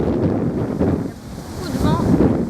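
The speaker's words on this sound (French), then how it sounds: "Beaucoup de vent." Strong wind buffets the microphone outdoors on a mountain-bike outing, a continuous loud low roar that surges and dips throughout without a break.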